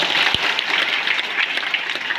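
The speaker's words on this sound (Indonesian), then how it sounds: "Tepuk tangan juga buat Kang Farid." Crowd at a Democrat party rally in Lebak claps for Kang Farid, a brief steady burst of many hands clapping together, fairly close and unbroken.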